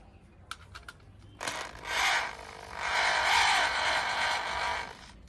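Screws being tightened on the LNB clamp of a DTH satellite dish: a few faint clicks, then sustained close rasping and rubbing metal sounds in two longer bursts, with no talk.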